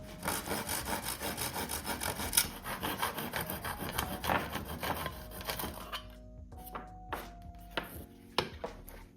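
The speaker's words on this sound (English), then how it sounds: "using a file, the hole was made into a rectangular shape." A hand file rasps back and forth, enlarging a hole into a rectangular shape in a DIY IKEA lightbox bedside lamp, giving close, steady scraping strokes, with the rhythm breaking into sparser, separated strokes near the end.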